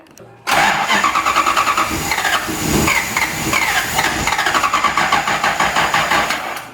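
A V8-swapped Lexus IS200 cranks on a start attempt with a weak battery: a loud, close, steady pulsing starter churn that begins abruptly and runs on for about six seconds without firing.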